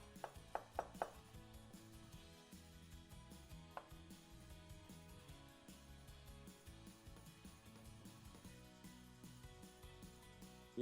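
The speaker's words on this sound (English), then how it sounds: "start by cutting the tofu in half and then working with smaller pieces" A knife slices tofu in half and then into smaller pieces, with a quick run of crisp taps on the board at the start, a lone tap later, and faint background after.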